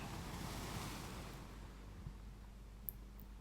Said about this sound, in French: Le bruit des vagues est tellement relaxant.